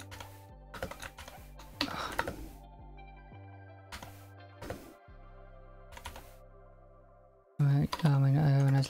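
Keys clatter on a computer keyboard in quick irregular bursts of close, crisp taps, with pauses and sustained background tones between them.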